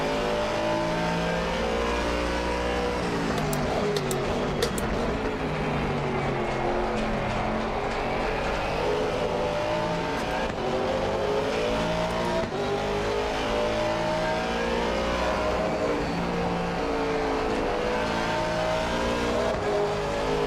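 Race cars in Assetto Corsa Competizione roar continuously at close range, their engines revving and shifting through gears in a loud, dense pack, with faint tyre squeal under the constant engine noise.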